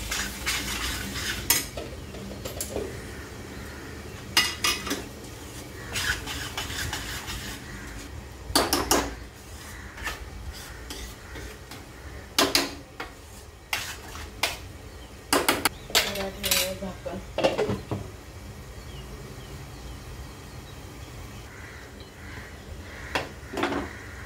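A metal ladle stirs and knocks against the rim of a cooking pot while bhurji cooks, giving sharp scattered clangs and scrapes at irregular intervals over a quiet kitchen background.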